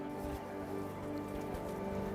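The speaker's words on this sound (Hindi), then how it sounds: "बारिश शुरू हो गई है हल्की हल्की सी" Light rain patters softly and steadily at Pashupatinath Temple in Kathmandu, faint against a quiet, droning tonal background.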